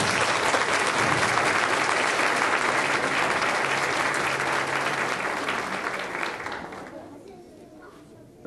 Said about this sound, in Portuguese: Nosso aplauso mais uma vez para vocês